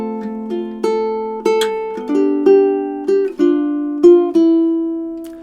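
Ukulele playing measures 5 and 6 of a song, about eight strummed and plucked chord attacks in a steady rhythm, each ringing briefly before the next, close and clear with no voice.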